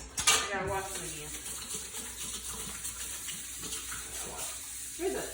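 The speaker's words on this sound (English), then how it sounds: "now that my hands are all sticky with garlic juice, I gotta wash them again" Running tap water in a home kitchen while garlic-sticky hands are rinsed during shrimp and grits prep, with splashing and a brief clatter of dishes at the start, steady and close with no talk.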